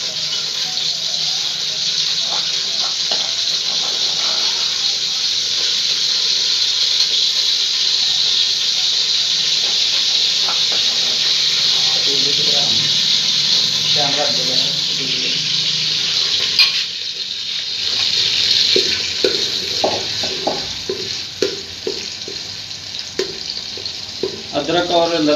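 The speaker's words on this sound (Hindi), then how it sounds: "अदरक और लहसुन के पेस्ट को अच्छी तरह यहाँ पे भून लेना है।" Ginger garlic paste sizzles in a hot pan for a long stretch as a loud, even hiss. Scattered scraping and stirring clicks grow busier toward the end.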